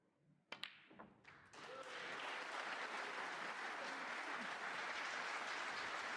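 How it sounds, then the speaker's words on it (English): Snooker crowd at the 2023 UK Championship breaking into applause for a century break, a few scattered early claps quickly swelling into steady, sustained clapping that fills the hall. "applause for the century"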